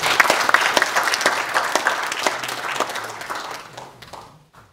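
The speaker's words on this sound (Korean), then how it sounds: "박수로 환영합니다" Audience applause welcoming a church elder at a congregation gathering: dense, steady clapping from a room full of people, loud at first and tapering off toward the end.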